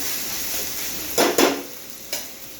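Schezwan fried rice ingredients, garlic and oil, stirred quickly in a hot pan, giving a steady frying hiss broken by two close scraping bursts and one later stir.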